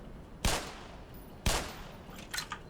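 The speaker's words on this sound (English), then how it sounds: "But you can shoot them and waste some ammo, like I just did" Two loud, close gunshots in Black Mesa, spaced about a second apart, each a sharp crack with a short decaying tail, followed by a softer burst of small impact clicks.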